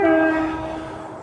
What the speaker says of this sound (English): Noisy trains.